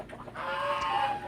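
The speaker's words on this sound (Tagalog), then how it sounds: "Nagpapakain na po ng manok." Chickens on a farm being fed, with a single nearby hen giving a brief drawn-out cluck that rises and fades within about a second, fairly quiet against a still background.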